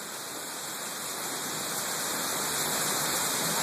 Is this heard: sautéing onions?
no